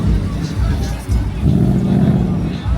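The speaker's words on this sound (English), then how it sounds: "got some more cars rolling in" Cars rolling in at a car show, engines rumbling low and steady at close range amid crowd babble and nearby chatter.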